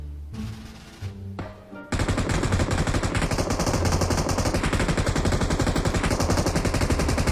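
Rapid machine gun fire in a video game rattles continuously for several seconds, loud and dense, after a few scattered bursts and shots at the start.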